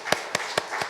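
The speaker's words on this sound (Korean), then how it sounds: "박수합시다." Four quick, evenly spaced claps ring out in a church, crisp and fairly close, as the congregation briefly applauds.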